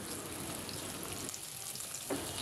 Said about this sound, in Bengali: এই সবজিগুলো ভাজার জন্য নিয়েছি এখানে সরিষার তেল।